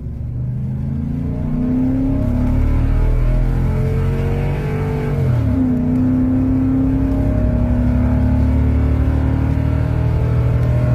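A Ford F250 Super Duty pickup towing at full throttle up a slight incline, its engine roaring loudly and climbing steadily in pitch, with a brief dip at a gear change midway before it pulls hard again.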